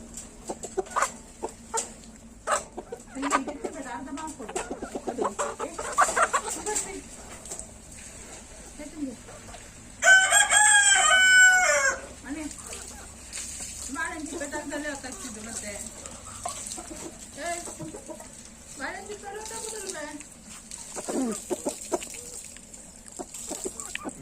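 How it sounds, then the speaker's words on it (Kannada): Chickens being fed banana cluck in scattered bursts close by, with occasional louder squawks, while people talk on and off over a steady background hum. "ಕೋಳಿಗೆ ನೋಡಿ ಬಾಳೆಹಣ್ಣು ಕೊಡುದು."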